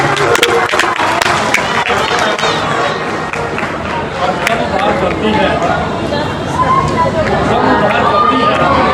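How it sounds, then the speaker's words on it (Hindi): An audience at an outdoor Ramleela stage performance applauds loudly, sustained clapping mixed with crowd chatter and voices throughout. "जोरदार ताली"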